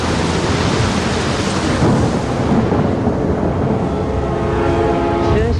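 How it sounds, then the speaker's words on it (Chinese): Thunder as a film sound effect in a dramatic martial-arts scene: a loud, sustained, broadband rumbling roll that fills the whole stretch and slowly fades toward the end, with no talk over it. "只是凑巧撞上打雷天而已"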